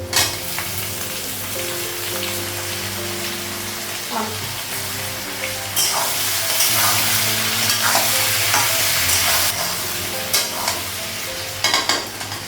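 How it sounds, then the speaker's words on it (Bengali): Taro pieces fry with onions in a pan and sizzle steadily while a utensil repeatedly scrapes and stirs them. The frying hiss grows louder midway, with occasional clinks near the end. "কচুটা লাগবে, কচুটা একটু ভেজে দেবো।"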